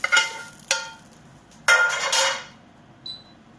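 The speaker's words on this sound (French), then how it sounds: "j'ai fini de mélanger mes aubergines" A utensil clinks and scrapes against a pan while cooked aubergines are mixed into tomato sauce, giving several sharp metallic strikes and short scraping sweeps, close and fairly loud, with no talking.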